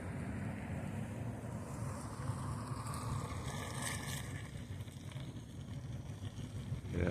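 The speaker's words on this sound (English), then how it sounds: "But got some cars going by, so sorry about the noise." Cars passing on a road outside a mall, heard as a steady broadband rush of traffic noise with rising swells and wind buffeting on the microphone, continuous throughout with no talk.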